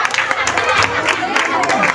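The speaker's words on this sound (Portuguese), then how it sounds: "Palmas pro Everaldo." An audience at a church children's gathering gives a short burst of applause, quick overlapping claps mixed with crowd voices and talk.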